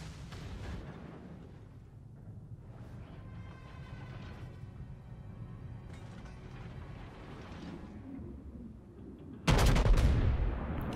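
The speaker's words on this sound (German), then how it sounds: "Alle Schüsse auf einmal Richtung Arkansas gezielt." In World of Warships, low rumbling and mechanical creaks build for several seconds before a sudden loud full salvo of heavy naval cannon fire from the battleship Texas, booming and then ringing out.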